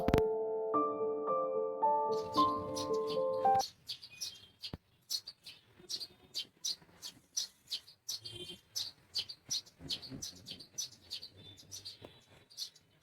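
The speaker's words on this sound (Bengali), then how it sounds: "সকালবেলা এই যে পাখির এই যে কলতান, এটা মানে সচরাচর আমাদের এদিকে শোনা যায় না" Birds chirp and tweet in the morning at a Bengali home, a quick run of sharp, repeated calls close by after a brief musical intro, otherwise quiet.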